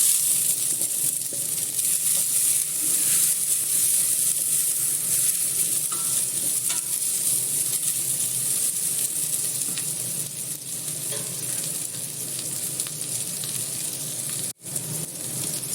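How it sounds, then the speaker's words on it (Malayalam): Onions and shallots sauté in hot oil for a jackfruit curry, giving a steady, loud, close sizzle that carries through the whole stretch with soft stirring scrapes and a brief dip near the end. "ഒന്ന് വഴറ്റിയിട്ട് നമുക്ക് ഈ സവാളയും ചെറിയ ഉള്ളിയും ചേർത്ത് കൊടുക്കാം"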